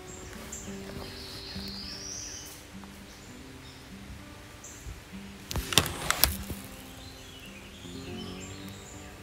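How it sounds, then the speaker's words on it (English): Northern parula singing outdoors in a bird-rich setting: faint, thin high notes and a rising buzzy trill, with other distant bird chirps, steady background hiss and a brief rustling burst midway. "continued to listen for a song or a call, but all I heard was the northern parula"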